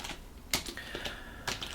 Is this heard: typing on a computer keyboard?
yes